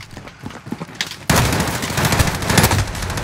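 Sniper rifle gunshots fired without scoping in a shooter video game, heard as an abrupt loud burst of dense gunfire that begins partway through and keeps going to the end after quieter crackling shots.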